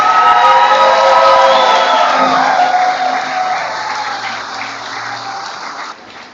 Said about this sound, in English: let's give all of our seniors a big round of applause